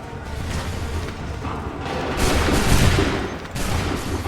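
Musket volley fire in Assassin's Creed 3, a dense crackling fusillade of many shots that rolls through the clip and swells around the middle, with booming reports over a rumbling battlefield background.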